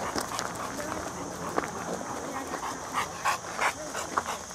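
Dogs give short yips and barks with a busy, rustling background while someone talks over them, the bursts coming close and irregular.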